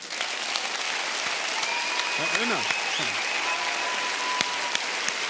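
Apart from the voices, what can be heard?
audience applause at an award ceremony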